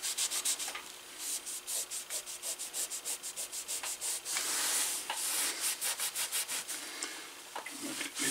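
Rag rubbing Connolly's finish into a prefinished leather belt, a close, soft scrubbing in quick regular back-and-forth strokes, steady throughout with short pauses and no voices.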